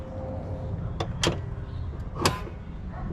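A Vis Racing Voltic-style carbon fiber hood on an Evo 9 being opened and closed, giving a few brief mechanical clunks and latch knocks over a low ambient hum.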